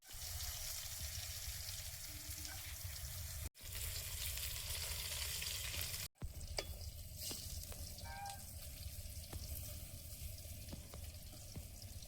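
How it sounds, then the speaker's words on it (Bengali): Brinjal mixed with salt and turmeric sizzles steadily in hot oil, a constant crackling fry broken by two brief dropouts, with a few light utensil clicks later. "বেগুনটা লবণ হলুদ মিশিয়ে ভেজে নেবো"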